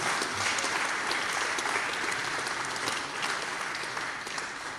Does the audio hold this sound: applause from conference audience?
yes